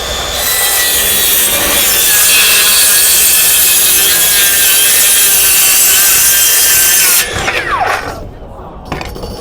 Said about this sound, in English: this is our new GSA 18V110 recip saw